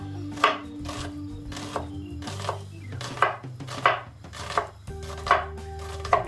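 A knife thinly slices red onion on a board for gravy, a series of crisp, close chopping strokes at an uneven pace with brief clatters between them, over a steady low hum from the kitchen.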